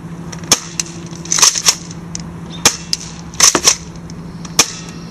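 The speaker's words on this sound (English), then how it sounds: "So now we're going to be shooting just a couple more shots on this target." An AGM full metal 614 airsoft gun fires at a target, about eight sharp snapping shots, some single and some in quick pairs, near and loud with a faint hum underneath.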